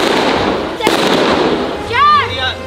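Firecrackers burst during a neighborhood firecracker battle, a sharp crack standing out amid loud continuous crackling and noise, with excited shouting voices over the top.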